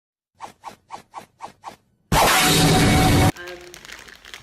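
A packet of Ukrainian crisps is handled: six short evenly spaced crinkles, then a long, loud tearing rip as the bag opens, followed by softer rustling of the plastic packet close by.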